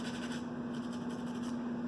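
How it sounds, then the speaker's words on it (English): A Norwex cloth scrubs jewelry in a soft, steady rubbing that runs through the whole moment at low volume over a constant background hum. "give them a good little scrubbing, takes care of that"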